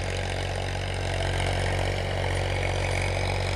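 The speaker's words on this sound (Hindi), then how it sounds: "ट्रैक्टर की बुआई चालन लाग रही है" Tractor engine running steadily while sowing a field in Rajasthan, a continuous low rumbling drone with faint mechanical clatter, close and fairly loud throughout with no talk over it.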